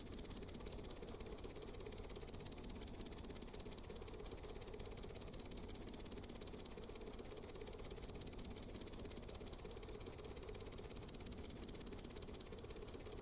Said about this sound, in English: All right, we'll shut the engine down.